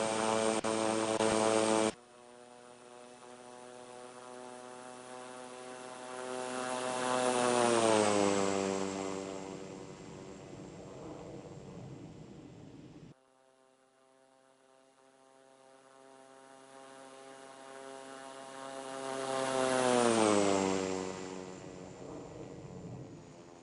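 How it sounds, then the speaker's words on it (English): A Dash 8 turboprop airliner spools up and rolls for takeoff on runway 31 right at Palm Springs, its steady propeller drone swelling loud with a sweeping pitch change, easing off, then rising again in a second powerful surge. "November 415 Victor, runway 31 right, cleared for takeoff."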